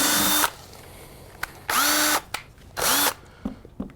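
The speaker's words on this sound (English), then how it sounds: "So I'm just going to drill a series of holes." A power drill drills holes in HDPE plastic in three loud, close bursts, each about half a second long, with a short whine as the motor spins up and down. Quiet gaps and small handling clicks come between the bursts.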